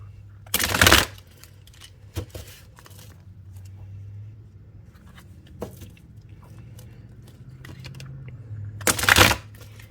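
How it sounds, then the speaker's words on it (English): A tarot deck is shuffled in two loud, brief bursts of riffling cards at the start and end, with faint card handling and soft taps between them over a low background hum. "Give it a good shuffle."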